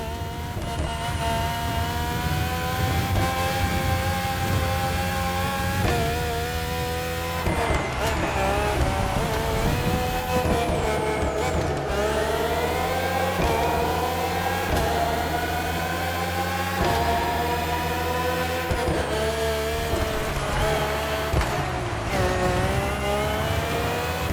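Red Bull Formula 1 car engines rev and scream in The Crew Motorfest, with sustained high-pitched whines rising and falling in pitch through repeated gear shifts, loud and continuous throughout.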